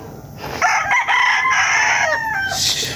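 Roosters at a gamefowl farm crow loudly and close by, one long drawn-out crow over a backdrop of other fowl calls, with no talk.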